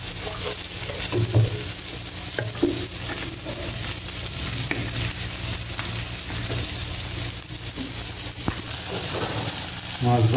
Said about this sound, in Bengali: মাছ ভাজা হয়ে গেছে, আর একটু হবে